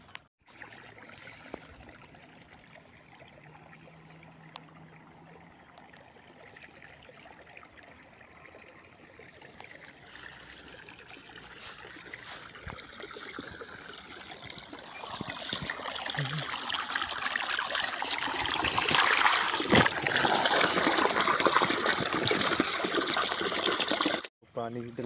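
Irrigation water flows into a wheat field, a soft steady trickle at first that swells into a louder, fuller rushing wash during the second half before cutting off abruptly.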